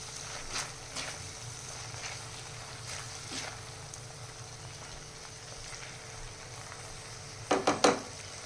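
A spicy paneer masala is stirred in a kadhai, giving a faint, steady sizzle with soft scraping, then a few louder clinks of the spoon against the pan near the end.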